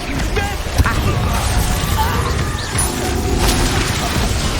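A Confringo blasting spell goes off in the Hogwarts Legacy video game, a sharp burst near the start followed by dense, steady magical combat rumble and clatter throughout, with battle voices mixed in.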